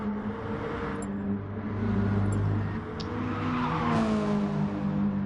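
In a racing game, a race car's engine drones steadily while tires squeal and skid as the brakes lock up, the screech rising toward the end amid continuous motor noise.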